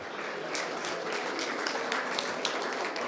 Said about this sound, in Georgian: უმრავლესობა ტაშითა და ოვაციებით შეხვდა